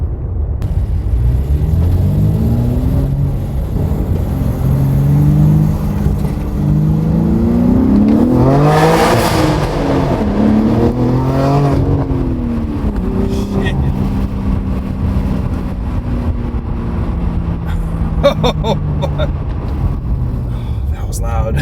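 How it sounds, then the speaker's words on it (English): A BMW G80 M3 fitted with an AWE Switchpath exhaust and high-flow catted downpipes accelerates hard from inside the car, a loud rising engine roar climbing through gears, then easing off into a burbling cruise, with crackles near the end. "This exhaust is loud."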